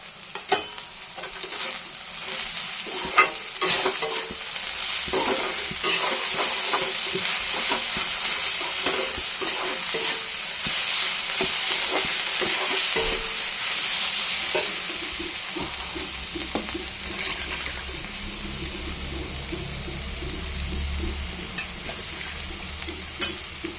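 Turmeric, dried chili powder and crushed garlic with chili fry in hot oil, a continuous loud sizzle broken by frequent scraping stirs of a spatula against the pan, lasting throughout with no talking.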